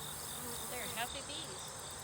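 Honey bees buzz around an open hive during an outdoor beeyard inspection, a soft, steady hum of many insects near and far, with the odd louder pass of a single bee close by.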